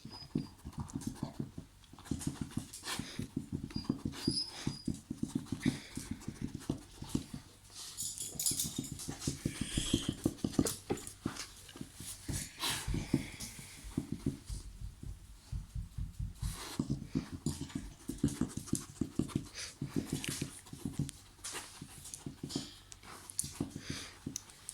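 A dog noses through a cross-shaped snuffle mat, snuffling and panting in quick, continuous bursts up close, with rhythmic breathy puffs and faint rustles of fabric.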